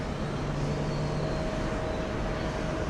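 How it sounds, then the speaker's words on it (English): A Boeing 777 airliner arriving from London at JFK airport, heard as a steady, broad jet roar at moderate distance that holds evenly throughout, with a faint tonal whine running through it. "Here comes our 777 from London."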